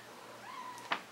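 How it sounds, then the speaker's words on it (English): A domestic cat gives a single short, rising-then-level meow, close and fairly quiet, ending with a brief sharp knock. "And that's my cat."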